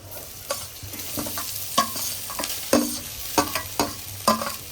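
Boiled rice being stir-fried with onions in a pan for Himachali-style lemon rice, giving a steady sizzle broken by repeated scraping, stirring strokes of a spoon roughly every half second, close and fairly loud with no talking.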